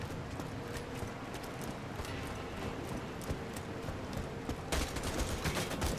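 Rapid gunfire in Borderlands 2 rattles as bursts of sharp shots over a busy background din, with a denser volley toward the end.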